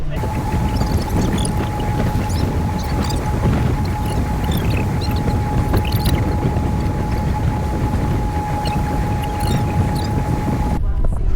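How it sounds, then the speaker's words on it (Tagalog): A steady, heavy roar of wind blows across the microphone at a beach without a break, with a faint constant tone running beneath it. "Kasi doon sobrang hangin eh."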